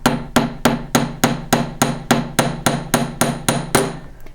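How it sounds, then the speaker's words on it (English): A hammer strikes metal about a dozen times at a steady, even pace, flattening the end into a small paddle shape. Each blow is loud and sharp and rings briefly, with no speech. "So I'm going to take this and I'm going to hammer"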